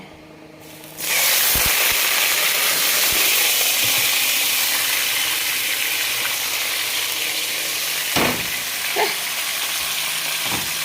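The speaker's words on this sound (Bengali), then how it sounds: "এই ব্রয়লার মুরগি এখন রান্না করি এই যে কড়াইতে তেল দিয়ে দিছি" Broiler chicken hitting hot oil in a wok, a sudden loud burst of sizzling that settles into a steady hissing fry, with a few clinks of a utensil against the pan.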